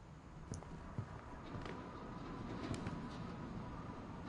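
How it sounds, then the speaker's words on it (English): A train in What Remains of Edith Finch rumbles low and steady at a moderate distance, with faint metallic clicks and knocks scattered over a continuous rolling roar. "Is that a train?"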